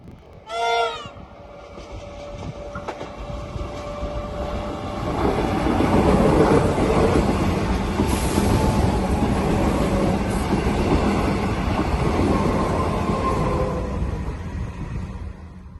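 A miniature railway train at Victoria Esplanade, Palmerston North, rumbles past with rhythmic clatter on the rails, swelling louder midway and fading slightly, after a brief squeal near the start; no talking.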